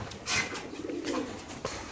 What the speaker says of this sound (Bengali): খাঁচা নাম্বার 11, খুব সুন্দর বড় সাইজের কবুতর মাশাআল্লাহ, দেখতে পাচ্ছেন